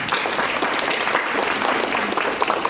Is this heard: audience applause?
yes